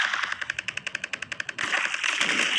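A minigun in a video game fires a rapid, evenly spaced burst of about fifteen shots. The burst then blends into a dense, noisy clatter before cutting off, with no talk over it.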